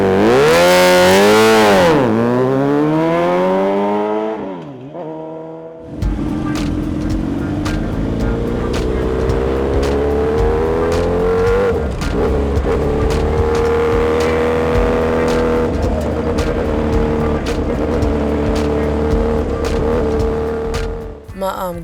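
A motorcycle revs loudly up and down nearby, then pulls away and fades within about five seconds. A steady, loud engine and road rumble follows, with faint voices at times.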